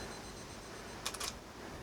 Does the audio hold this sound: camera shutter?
yes